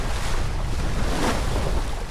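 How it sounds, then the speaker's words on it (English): A boat moves through the sea, with a steady rush of water and waves mixed with wind buffeting the microphone. "it's just the way it just goes through the waves and it doesn't slam."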